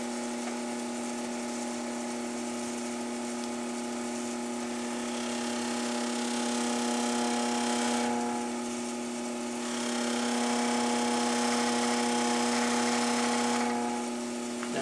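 A Delta 8-inch grinder with a buffing wheel runs on its slow setting, a steady whirring hum with a strong sustained tone and broad hiss, swelling slightly louder a couple of times as work is pressed against the wheel.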